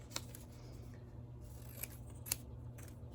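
Scissors snip through folded paper in a quiet room, with a few separate sharp cuts spread apart and no voices.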